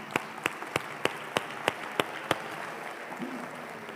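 A live audience at a talk claps in a steady run of about eight loud, evenly spaced sharp claps over soft background applause and room noise, the rhythm fading out toward the end.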